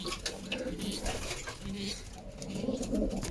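Young pigeon squabs cooing continuously, with low murmuring coos and soft rustling close by, steady throughout with a faint voice-like murmur in the mix.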